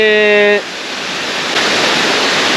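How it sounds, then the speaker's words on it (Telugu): A waterfall in the Nallamala forest near the Nemali Gundla Ranganayakula Swamy temple at Giddalur roars as a loud, steady rush of water, following a brief tonal sound at the very start. "చూసారా ఎంత సుందర వర్ణంగా ఉందో ఈ జలపాతం"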